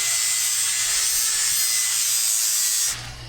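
A loud, steady high-pitched whine from a power tool grinding down a coil spring for a rock crawler build, holding constant for about three seconds before cutting off abruptly.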